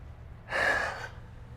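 A single deep breath drawn in during a full-body stretch, rising into a clear, airy inhale that lasts about half a second and then fades, close and fairly loud against quiet background hum.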